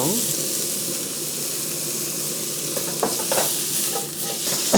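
Minced meat stir-fried with garlic and a pinch of pepper in an oiled pan, giving a steady, close sizzle throughout with scraping stirs and small clatters coming in near the end.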